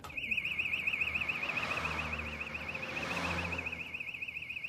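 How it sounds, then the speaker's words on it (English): A burglar alarm bell rings continuously at a fixed high pitch with a fast pulsing warble, moderately distant and steady, over faint low background rumble. "The alarm bell's going off."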